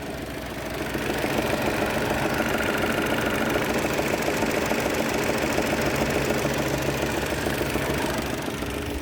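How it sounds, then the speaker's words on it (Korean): A faulty Rover Mini engine idling steadily, close up, with a continuous rough, rattling ticking running through the hum. "이상 있는 엔진 소리 한번 들려드리겠습니다."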